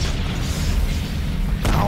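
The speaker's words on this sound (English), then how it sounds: "Have another grenade." A grenade goes off in the shooter Crysis Warhead: a low, rumbling boom fills the clip, then a sharp, loud burst lands near the end.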